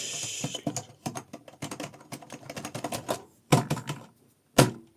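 Brisk typing on a new RGB-backlit computer keyboard from a budget store, with irregular bursts of crisp clicking keystrokes, short pauses, then a few isolated louder key presses near the end, close and alone.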